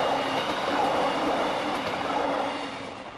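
A passenger train pulls into a snowy station in Bulgaria, a steady, heavy rumble of wheels and carriages with a faint metallic squeal, loud and close, easing off slightly at the end, with no voices.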